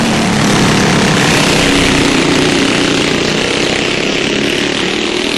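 Go-kart engines snarl and buzz continuously at Galletta's Backyard Speedway during a 40-lap race, a loud, dense, close drone of several small motors with no pauses.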